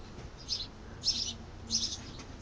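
A pet cockatiel gives three short, bright chirps at a moderate distance over a faint room hum, the last two slightly louder than the first.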